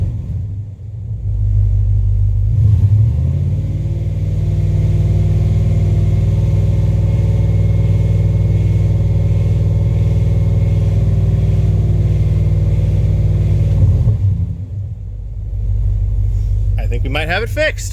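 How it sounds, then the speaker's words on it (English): A flatbed truck with a newly fitted engine holds a loud, steady, deep drone at raised revs, then drops back to idle near the end, heard up close and alone. "hold it at RPM like this for a minute, then let off. It idles. Give it a quick rev."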